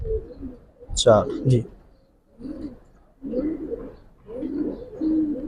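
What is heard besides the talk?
Bagha and silver pigeons cooing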